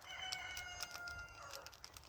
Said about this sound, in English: Oh, cockerel's going a bit mad.